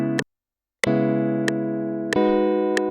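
Guitar chords built in FL Studio with the middle note raised an octave, sounding as a few crisp plucked chords with one short gap, each sustaining evenly before the next strike, clean and alone without talk.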